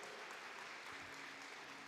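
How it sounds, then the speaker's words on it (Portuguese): Church congregation applauding during a worship service, a steady wash of clapping that fills the whole stretch at moderate volume with no voices over it. "aplauda ao Senhor"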